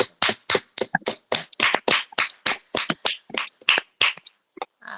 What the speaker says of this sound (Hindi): आगुटे ताली देवा